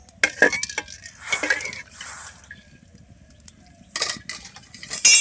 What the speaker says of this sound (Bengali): একটু নেড়ে দেবো ফিটকিরিটা।